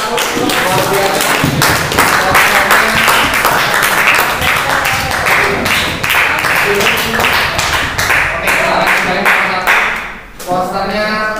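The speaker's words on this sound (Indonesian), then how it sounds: "Beri aplaus untuk kelompok satu luar biasa" A classroom audience claps loudly and continuously for group one, a dense steady applause lasting about ten seconds that fades briefly before a voice begins speaking at the end.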